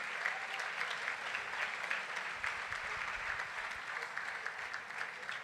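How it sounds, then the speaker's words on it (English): A crowd applauds a speaker after an education talk with continuous, even clapping, moderately loud and sustained throughout, with no talking over it. "A round of applause for our speaker."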